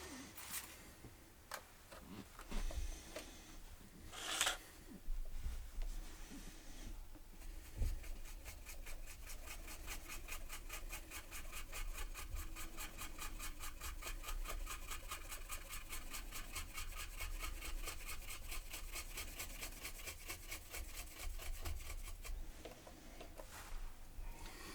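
A brush dry-brushes paint onto an Accurascale Siphon G model wagon, soft scratchy strokes that turn into a steady, quiet rasping scrub heard close and alone.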